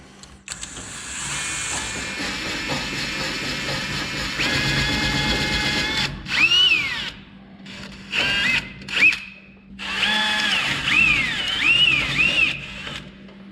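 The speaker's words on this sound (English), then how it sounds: "this slat didn't get quite drilled out enough or something" A power drill whirs in bursts against a wooden slat, a steady motor hum at first, then several short high-pitched spins starting and stopping with pauses between, close and fairly loud.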